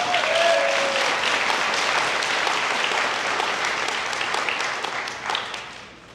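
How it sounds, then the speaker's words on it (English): Crowd applause at a college commencement ceremony in Chula Vista, a sustained burst of many hands clapping that stays fairly even and then thins out toward the end. "I think that is another round of applause right there."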